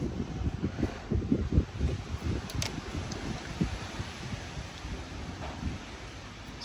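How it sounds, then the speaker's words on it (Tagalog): Strong wind buffets the microphone outdoors in a garden of cactus and succulents, a quiet, uneven rumble with gusting surges and faint rustling. "Ang lakas ng hangin"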